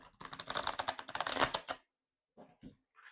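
A deck of cards is shuffled for a pick-a-pile card reading: a fast, dense riffling burst lasting under two seconds, followed by a few soft, scattered card taps and slides.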